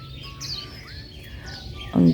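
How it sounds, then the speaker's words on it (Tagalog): Birds chirp and tweet outdoors on a foggy morning near a home garden, short high calls scattered over a soft background, ending with a louder burst of nearby noise. "naririnig yung mga ibon dito sa amin"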